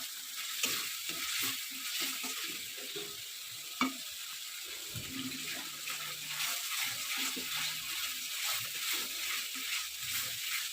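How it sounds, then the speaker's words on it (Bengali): Spice paste with chopped tomato and salt frying in oil, a moderate steady sizzle with intermittent scraping and stirring, close by, with a few sharper knocks and no talking. "তো ভালো করে এখন মশলাটা কষতে থাকছি।"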